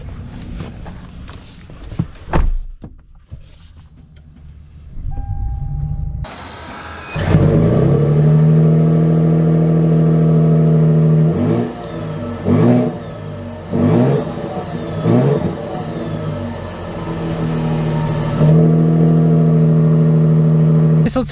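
A 2023 Toyota Tundra TRD Pro starts up and drives to a parking space, its engine a loud, close, steady rumble that rises and falls with throttle and shifts, with some faint talk at times.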